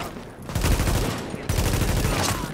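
Rapid gunfire bursts from the video game The Division form two loud, dense volleys of shots, the second following a short break, with no talking.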